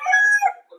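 A gamecock rooster, a long-tailed fighting breed, gives one loud, close crow that rises, holds, then breaks off after under a second.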